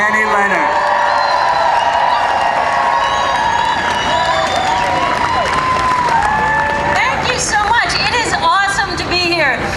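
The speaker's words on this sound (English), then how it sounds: "I want you to give her a nice, heartfelt round of applause." A crowd at an anti-Trump rally in New York City applauds and cheers loudly, with whoops and shouting voices rising over steady clapping throughout.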